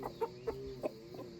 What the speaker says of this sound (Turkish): Bir kara tavuk, 2 de sarı tavuk var.